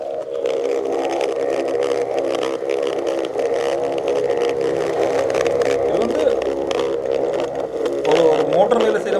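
A recording made in Batticaloa lagoon, Sri Lanka, of the so-called singing fish: a steady, loud, motor-like droning hum with layered tones that runs unbroken, with voices mixed in.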